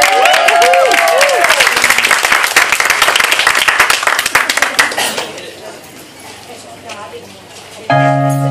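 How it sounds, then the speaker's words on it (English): Wedding guests applauding a singer before the first dance, loud sustained clapping and cheers with a tinkling chime early on, fading out as talk and a held musical chord take over near the end. "would you give him a round of applause?"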